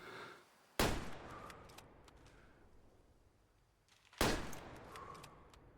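Two sharp rifle shots fired at a deer in the hunting game Way of the Hunter, each a loud crack followed by a long rolling echo, spaced about three and a half seconds apart in a quiet outdoor setting.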